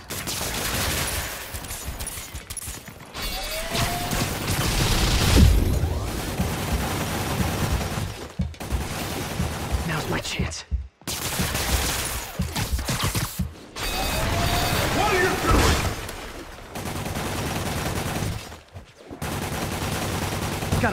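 Enemy gunfire in a combat scene from Marvel's Spider-Man Remastered, with sustained bursts of automatic fire and mechanical clatter filling most of the span, briefly cutting out between volleys.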